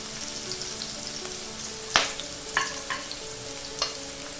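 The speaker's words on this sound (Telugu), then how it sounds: "ఫ్లేమ్ని హై పెట్టేసి ఇందులోకి నూనె కాగాక వెల్లుల్లి, పచ్చిమిరపకాయ ముక్కలు, ఉల్లిపాయ ముక్కలు," Garlic, green chilli, onion and carrot pieces sizzle steadily in hot oil over a high flame, a continuous crackling fry broken by a few sharp clinks of a spatula against the pan.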